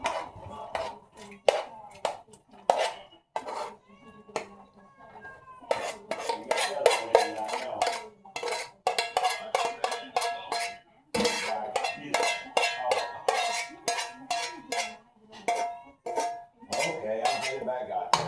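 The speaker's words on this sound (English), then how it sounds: "We're gonna transfer the contents of this pan here over to this pan here." Metal utensils scrape and clatter against pans as food is transferred from one pan to another, a dense run of close, sharp clinks and scrapes with brief pauses and no talking.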